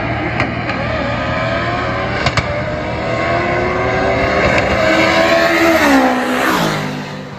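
A turbocharged B-series engine in an all-wheel-drive car runs hard on a street, a steady loud engine drone whose pitch climbs steadily and rises sharply near the end, with a couple of brief sharp clicks early on.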